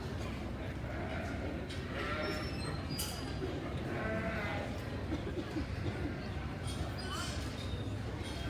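Market wether lambs bleating at a junior livestock show in an arena, scattered bleats rising above a dense, noisy crowd and hall din, with people talking throughout.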